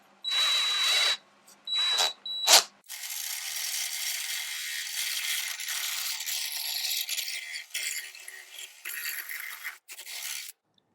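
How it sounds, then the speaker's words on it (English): A power drill spins a wooden dowel being shaped round for woodworking, whirring in a few short bursts, then in a longer sustained run that wavers slightly before stopping. "You stick it in the drill."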